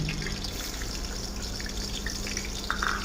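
Chopped onions go into a cup of hot cooking oil for vegetable pulao, giving a continuous close sizzle with faint crackles and splatters, steady throughout and without speech.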